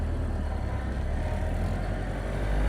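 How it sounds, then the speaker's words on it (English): A 1929 Ford Model A Roadster engine runs steadily with a loud, low, rumbling drone, close by and constant throughout, no talk over it. "The car sounds really good"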